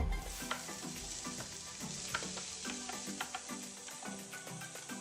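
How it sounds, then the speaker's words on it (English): Chopped onion frying in a shallow tablespoon of olive and coconut oil, a steady close sizzle with repeated stirring scrapes and light clinks throughout, no voices. "So now I'm going to start with my onion."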